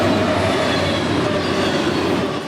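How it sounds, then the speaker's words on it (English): A train rumbles loudly past on nearby tracks, a dense, continuous roar of wheels and carriages with faint squealing, close and steady throughout. "trains do still rumble past Butler's place"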